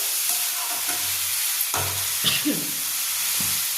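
Sour yogurt goes into spiced potatoes in a pan and gets stirred in: a faint sizzle runs beneath several distinct scraping, slapping stirs at irregular intervals, close and clear, with no talking.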